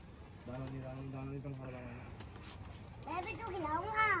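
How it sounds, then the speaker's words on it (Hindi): Soft, low coos from fighting pigeons in Delhi, a couple of drawn-out calls, heard close by with a person talking over the end. "ये आ गए भाई कबूतर"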